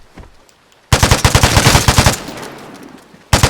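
Close, loud automatic bursts from a PAMD rifle in the game Vigor: one sustained burst of a dozen or so rapid shots after a quiet moment, then a second burst starting at the end.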